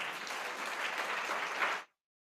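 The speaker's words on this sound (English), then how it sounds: "And let's give all of our faculty a round of applause." An audience applauds faculty at a school address, a dense steady wash of clapping that holds evenly at moderate volume and then cuts off abruptly.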